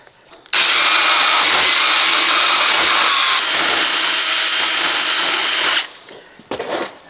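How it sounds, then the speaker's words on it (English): A small power cutting wheel bites into an old hammer head, giving a loud, sustained high-pitched whine and grind for about five seconds before it cuts out, followed by a short burst of quieter handling noise. "Let's see if this little cutting wheel will cut that."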